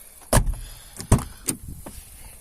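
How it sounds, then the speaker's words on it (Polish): The door of a Mercedes W126 is swung open and shut several times, each movement ending in a solid, close thump. A softer latch click follows, with a quiet pause between each sound. "Patrz, jak te drzwi w ogóle chodzą."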